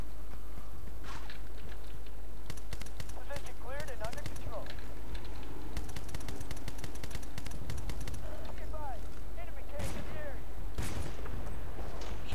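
Pistol gunfire in the video game Battlefield Bad Company 2: a series of sharp, irregular shots cracks out amid other battle noise, with someone talking over much of it.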